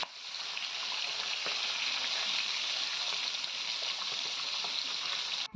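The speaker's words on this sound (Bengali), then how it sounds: "বড়িগুলো ভালোভাবে ভেজে নেব" Kumra bori, lentil dumplings, frying in hot oil, giving a steady, soft hiss and crackle with a few tiny pops, close and unbroken for several seconds.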